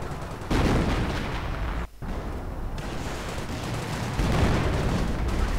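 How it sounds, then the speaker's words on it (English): Artillery fire in a real-time strategy video game, a dense, rumbling battle din of booms and gunfire with a brief dropout near the start, loud and continuous throughout. "Artillery going in, so he has obviously gone infantry"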